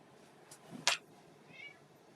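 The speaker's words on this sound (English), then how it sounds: "You hear my cat?" A single short meow sounds nearby, followed by a quieter trailing mew in an otherwise quiet room.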